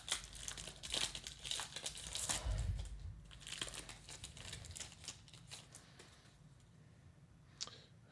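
Foil wrapper of a Magic: The Gathering Wilds of Eldraine draft booster pack crinkles and tears open close up, a burst of sharp crackling rustles that fades into lighter clicks and handling of cards, faint and without talk.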